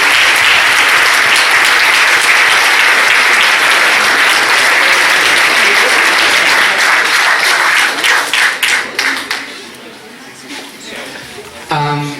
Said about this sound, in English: please give a big applause for Daniel and Thomas